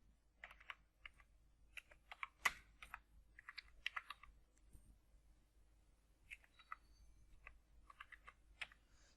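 Fingers type on a computer keyboard in bursts of quick, light clicks with short pauses, one sharper key strike standing out, while text goes into a Microsoft Word document. The keys sound close but faint, with no voices.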